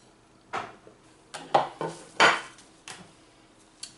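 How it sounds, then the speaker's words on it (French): Pieces of butter dropped into brioche dough in a mixing bowl, making a handful of separate soft thuds and light clinks against the bowl at irregular intervals, close and alone. "On va ajouter le beurre en morceaux"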